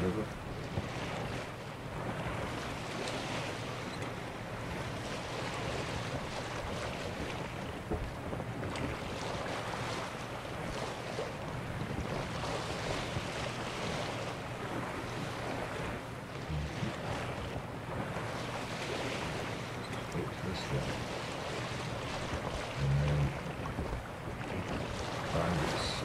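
Boat sailing on water in The Witcher 3, with a steady wash of waves and wind rushing across the hull, continuous and fairly loud for the whole stretch, with a few faint knocks.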